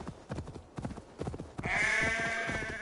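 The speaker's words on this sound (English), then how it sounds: "Shut up, sheep." Sheep bleating in the video game Assassin's Creed Valhalla: a sustained, fairly loud bleat enters partway through and holds to the end, after a stretch of clattering, hoof-like steps.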